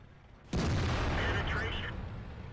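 A tank cannon fires in the video game World of Tanks, one sudden loud close blast that rolls into a long fading rumble, with game sounds faintly beneath.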